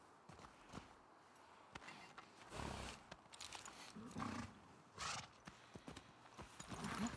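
Hooves of a horse trot slowly across ground in The Last of Us Part II, steady clip-clop steps mixed with ambient game sounds and low animal noises, moderately loud with little talk.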